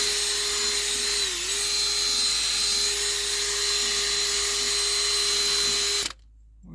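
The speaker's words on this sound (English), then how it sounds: "we've got the drill just on this" A power drill drives a cleaning attachment over a seatbelt inside a 2010 Ford Fusion. It gives a steady, high, whining run with one brief dip in speed, then cuts off abruptly near the end.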